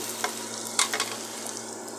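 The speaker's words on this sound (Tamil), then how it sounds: "வெங்காயம் நல்லா வதங்கிருச்சு நண்பர்களே பாருங்க நல்லா வதங்கிருச்சு" Onions sauté in a pan for a vegetable curry, giving a soft, steady sizzle with a few brief scraping stirs.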